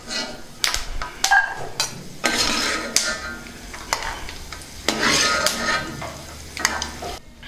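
Lightly browned fried peanuts are scooped and scraped from a pan into another bowl, giving rattling, scraping clatter in several bursts, close and fairly loud, with no one talking.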